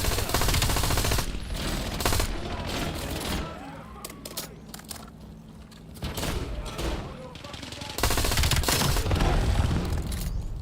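Video game gunfire in dense, rapid automatic bursts that carry on loud, ease into scattered shots midway, then return heavily, with a voice talking over parts of it.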